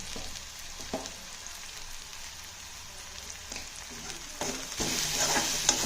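Vegetables for masala Maggi fry with salt in a pan, a steady close sizzle broken by a few stirring scrapes and swelling louder near the end, with no talking.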